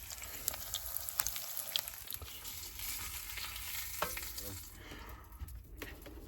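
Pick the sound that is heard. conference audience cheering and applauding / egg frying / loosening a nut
egg frying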